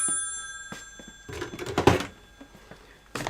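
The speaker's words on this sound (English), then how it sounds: "I gotta take the phone call." An old-style telephone bell rings in short bursts with a rattling, metallic clatter, moderately close, in a quiet room.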